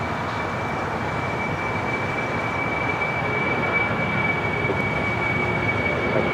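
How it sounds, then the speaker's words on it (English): An Aeromexico Boeing 787 Dreamliner airliner departs LAX for Mexico City with a continuous, loud jet roar that holds steady throughout, broad and rumbling with a faint high whine riding on top. "Got that Aeromexico Dreamliner heading back to Mexico City."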